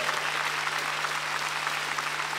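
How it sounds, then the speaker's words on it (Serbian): A studio audience applauds singers on a Serbian television singing competition, steady dense clapping that fills the whole stretch at an even level, with no voices over it. "Molim još jedan aplauz"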